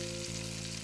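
Fish sizzling as it cooks in PlateUp!, a brief steady frying hiss with a faint tonal hum underneath.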